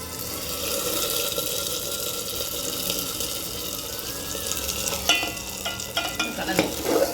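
Fried ingredients sizzle in a pan as they are stirred into sakkarai pongal, a close, continuous frying hiss broken by a few scraping stirs near the end, with no voices.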